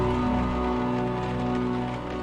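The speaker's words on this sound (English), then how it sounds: "Rain streaks down the window, obscuring most of the view." Rain on a window in the video game Unavowed, a continuous soft patter layered over a steady droning ambient tone, even in level from start to finish with no talking.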